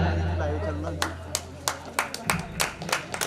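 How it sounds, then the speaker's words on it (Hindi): At a Hindi poetry gathering, someone speaks briefly before scattered, sharp hand claps break out from the audience, irregular and moderately loud over a low room hum. "एक बार जोरदार तालियां और समस्त कवियों से भी आग्रह करता हूँ कि आप भी अपने स्थान पर खड़े होकर के उनका सम्मान करें।"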